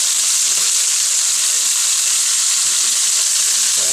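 German rouladen beef rolls brown in a hot pan, sending up a loud, dense, unbroken sizzle, close and steady.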